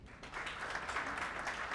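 Steady round of applause from a seminar audience rising after a brief quieter start and holding even, dense clapping throughout with no talk over it.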